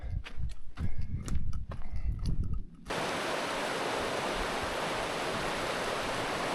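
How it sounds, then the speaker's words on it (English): The Chama River flows as a steady, broad rush of water that takes over after a few seconds of scattered knocks and thumps, then continues evenly to the end. "This is the Chama River"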